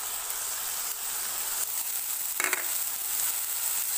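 Onions softened in a pan sizzle steadily as ginger garlic paste goes in for egg keema gravy, a constant close frying hiss with a brief louder crackle midway.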